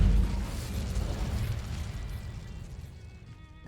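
A fiery Incendio spell blast in Hogwarts Legacy roars up with a loud low burst, then rumbles and crackles on, slowly fading over a few seconds with no talking.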